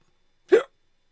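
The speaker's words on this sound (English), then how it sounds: "Why do I have hiccups?" A single short hiccup, sharp and close, standing alone in otherwise silent surroundings.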